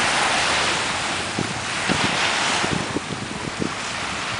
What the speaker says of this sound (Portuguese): Essa aqui é a Praia da Ponta Verde, próximo ao apartamento onde a gente tá hospedada.